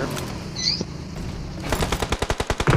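Rapid automatic gunfire in PUBG Mobile, starting with scattered shots and building into a loud, evenly spaced burst of about a dozen close reports, with no talk over it.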